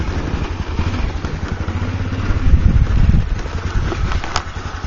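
The engine of a red 1986 Honda Elite 150 Deluxe scooter runs with a close, pulsing putter, rising briefly as the throttle is opened, with some wind noise over the microphone.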